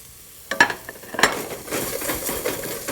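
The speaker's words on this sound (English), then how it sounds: "fry it a little more" Black pepper and asafoetida frying in a pan for an Indian vegetable dish, with a couple of sharp stirring clinks early on and then a steady close sizzle.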